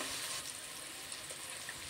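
Food fries in a pan for bagara rice, producing a soft, even sizzle with light stirring, faint and close, with no talking.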